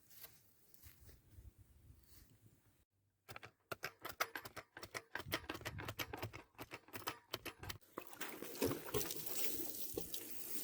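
Water spatters and patters onto freshly sown garden rows in a March vegetable plot, starting after a quiet stretch as irregular close splashes that settle into a steadier spray.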